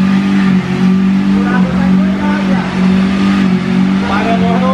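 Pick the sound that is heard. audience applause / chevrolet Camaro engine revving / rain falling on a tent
chevrolet Camaro engine revving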